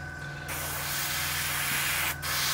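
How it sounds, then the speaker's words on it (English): Steady hiss of an airbrush spraying paint onto a 1/48 Airfix Hawker Sea Hurricane model, loud and close, with a brief pause near the end before spraying resumes. "we keep going back and spraying them over"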